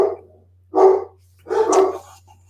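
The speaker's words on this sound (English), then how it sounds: "of course my dogs bark right on cue there" Two loud bursts of dog barking from several dogs indoors, each lasting about half a second, separated by a short pause, with a steady low hum underneath.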